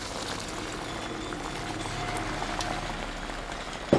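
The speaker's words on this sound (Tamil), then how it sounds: "ஒரு அரை கிளாஸ் தண்ணி இதில் சேர்த்துக்கலாம்." Half a glass of water goes into a heavy pan of frying goat intestine, giving a steady, close sizzling hiss with fine bubbling crackle that holds throughout and ends with a brief clatter.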